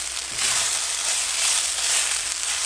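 Ginger and garlic fry in hot oil with a loud, dense, continuous sizzle close by, and a little stirring movement runs through it.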